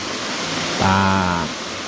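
Steady broadband roar of the Perehouski waterfall in Prudentópolis fills the whole stretch, with a brief humming tonal sound rising over the rush midway before fading back into the constant water noise.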